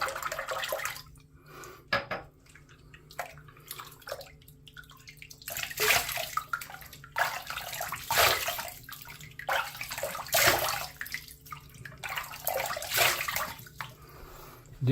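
Running water rinsing shaving soap off after a wet shave with a Rockwell 6S razor, splashing and gushing bursts with drips and small knocks in a basin, close and uneven.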